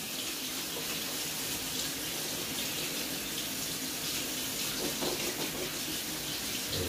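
Tap water runs steadily into a kitchen sink while broad beans are rinsed, a constant bright splashing gush that lasts throughout with no talk over it.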